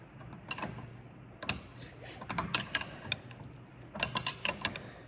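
Quick ratcheting clicks from a wrench tightening the strut top nut on a 1989 Mustang, close and crisp, arriving in two bursts of rapid ticks separated by a brief pause, with no talking.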